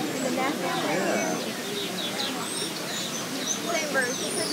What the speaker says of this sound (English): There's birds. Oh, that's the weaving birds